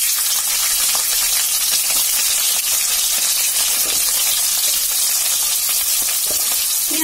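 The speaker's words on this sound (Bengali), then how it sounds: "পেঁয়াজটা একটু ভাজা হয়ে গেছে" Onions with green chillies fry in oil tempered with panch phoron in a pan, a steady dense sizzle holding close and even throughout, with a few faint stirring clicks and no talk.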